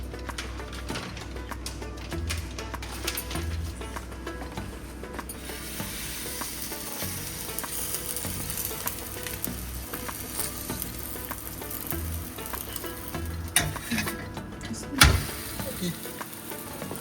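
Bobbatlu, a sweet stuffed flatbread, fry in a little oil on a flat pan. A steady close sizzle continues throughout, with occasional light clicks and a sharper clatter near the end. No one speaks.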